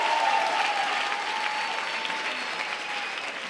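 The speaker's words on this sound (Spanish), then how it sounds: "Gracias a las tres personas que aplaudieron." Brief, continuous audience applause from a TV talk show crowd holds at an even, moderate level throughout, with a faint steady tone running underneath.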